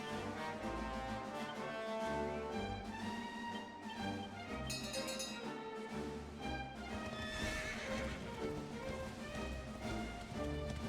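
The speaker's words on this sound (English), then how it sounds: "Keep on forgetting to use the horse." Horse riding in Dragon Quest XI: steady clip-clop hoofbeats with a neigh, clear and sustained over game music.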